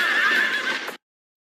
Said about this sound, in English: Man is being bitten by a horse!